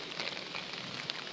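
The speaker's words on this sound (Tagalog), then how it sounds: "Umuulan sa labas." Light rain drizzling outdoors on a morning walk to work, a faint, steady, even hiss of fine drops with no voices.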